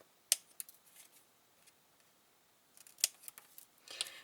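Scissors snip through a paper cutout for a Christmas menu and place card, a few sharp, close, quiet cuts separated by pauses, with a quicker cluster of snips near the end.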